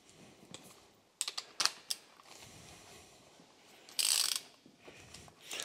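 A torque wrench ratcheting as bolts are tightened on an old Ford Anglia engine under restoration, giving quiet scattered clicks, then a quick run of sharper ratchet clicks and a brief louder burst, close and with no talk.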